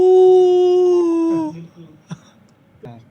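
A man imitates a dog howling with his voice, a long sustained tonal howl that slides down, then a few short whimpering yips follow, loud and close.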